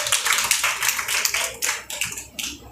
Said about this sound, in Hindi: तो इसके लिए बहुत बड़ी सभी को एक प्रशंसा और तालियां बजानी चाहिए।